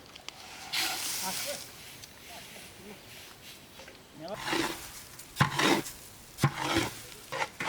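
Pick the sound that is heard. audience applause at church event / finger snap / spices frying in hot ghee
spices frying in hot ghee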